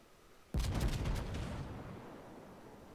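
Naval guns fire in World of Warships, a sudden loud blast of several overlapping booms that then rolls and fades into a long rumbling tail.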